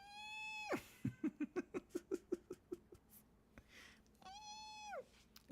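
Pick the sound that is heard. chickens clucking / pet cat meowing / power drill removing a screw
pet cat meowing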